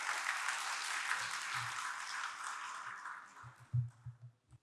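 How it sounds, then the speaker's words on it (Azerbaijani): Audience applause at a strategic marketing forum, a dense crowd of clapping hands that holds steady and then tapers off into a few scattered claps. "in təsisçisi və direktoru Rəvan Beydullayevi gür alqışlarınızla səhnəyə dəvət edirəm."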